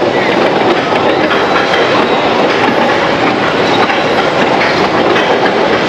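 A roller coaster train climbing the lift hill, heard as a loud, steady mechanical rumble with continuous rattling clatter close by, sustained throughout with a faint voice underneath.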